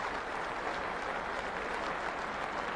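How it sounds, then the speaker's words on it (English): Sustained applause from a big cricket crowd at Lord's as umpire Dickie Bird receives an ovation, a dense, steady wash of clapping with no break in intensity. "who was given a wonderful ovation by this big crowd at Lords"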